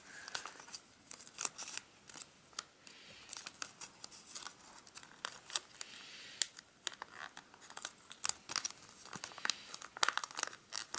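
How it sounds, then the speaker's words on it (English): Origami paper being folded into a Siamese cat makes soft crinkles and crisp creasing snaps, close and fairly quiet, in an irregular stream of small rustles with no voice over them. "And then fold this back down to the back basically."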